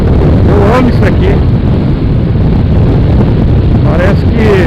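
Loud, buffeting wind roar from riding a motorcycle, constant and close to the microphone throughout, with a voice faintly audible beneath the rushing air.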